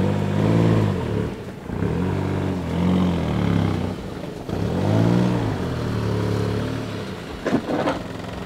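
A worn Volkswagen Polo engine driving slowly around a yard, revving in repeated rising and falling bursts with gaps between, fairly close and alone.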